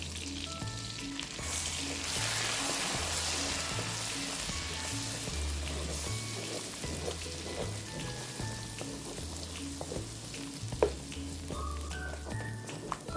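Garlic and masala sizzling in a pan over a low flame, a steady crackling hiss with repeated scraping and stirring strokes, close and continuous with no talk.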